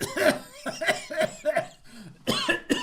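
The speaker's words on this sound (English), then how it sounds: "It's just the cough" A series of harsh, repeated coughs in quick bursts, close and loud, with a short pause before two more coughs at the end.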